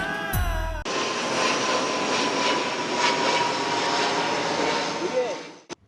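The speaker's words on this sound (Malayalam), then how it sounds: "കൊച്ചി രാജ്യാന്തര വിമാനത്താവളത്തിലേക്ക് ലാൻഡിങ്ങിനായി എത്തിയ വിമാനം അസാധാരണമാംവിധം താഴ്ന്നു പറന്നതിനെ തുടർന്ന്" A low-flying passenger airplane approaching Kochi international airport to land passes over houses at Okkal, making a loud, steady engine roar that holds for several seconds and swells briefly before cutting off.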